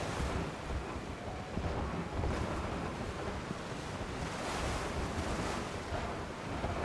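Steady, dense rush of falling water from a waterfall in the video game Zelda: Tears of the Kingdom, a broad continuous roar that holds level throughout with no voices.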